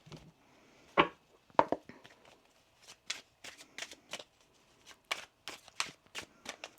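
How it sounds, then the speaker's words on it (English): Tarot cards riffle and snap in quick shuffling bursts, close by, with brief pauses between rounds. "One more shuffle."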